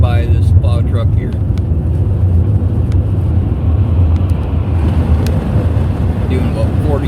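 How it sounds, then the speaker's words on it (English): Steady rushing road noise from a car driving about 45 mph through slush on a Minnesota winter road, a constant wet hiss and rumble heard from inside the vehicle. "Doing about 45 through the slush"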